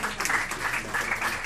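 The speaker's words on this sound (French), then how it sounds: "On va applaudir vite encore." A live audience at a comedy show gives a brief burst of steady applause, a short dense patch of clapping heard alone.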